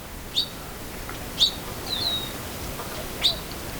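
A black-throated sparrow, a desert sparrow in winter at Patagonia Lake State Park, gives short high chirps, four separate calls spaced a second or so apart over faint outdoor background, clear and fairly near.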